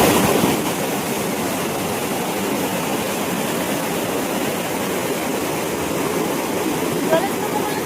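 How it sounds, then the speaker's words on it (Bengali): Teesta river water flowing strongly at Nimbon near Gajoldoba, a loud, steady rushing wash that fills the whole stretch without pause. "এটা কিন্তু তিস্তারি জল, গাজলডোবার থেকে কিন্তু আসছে এই জলটা"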